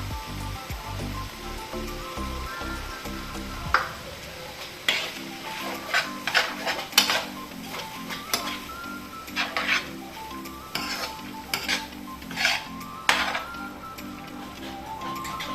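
Beans go into a pan of banana peel thoran, a Kerala stir-fry with Malabar spinach, and are stirred. A spoon scrapes and clinks against the pan in repeated strokes over a low sizzle, close and fairly loud, with no talking.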